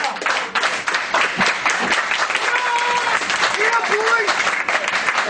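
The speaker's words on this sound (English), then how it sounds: "a well-deserved round of applause for their efforts so far" A crowd at a youth hockey event applauds the players, a steady, busy patter of clapping mixed with cheering voices and chatter, fairly loud and continuous across the whole stretch.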